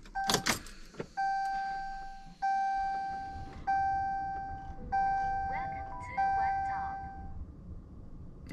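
Electronic chime from a car as its ignition is switched on: a series of steady, clear ding tones repeating at a regular pace, fairly close, with a sharper tone mixed in near the end, no talk.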